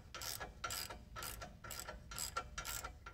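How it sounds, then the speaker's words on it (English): A ratchet backs out the torsion bar adjusting screw on a 1999 Chevy Silverado: a steady series of close clicking strokes, about six quick ratcheting pulls with brief pauses between, no talk. "Then, back out the adjusting screw."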